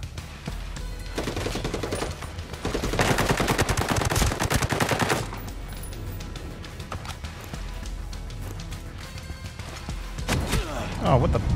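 Rapid bursts of automatic gunfire and single shots in the tactical shooter game Ghost Recon Breakpoint, loud and sustained with a dense volley in the middle, game sounds and speech mixed underneath.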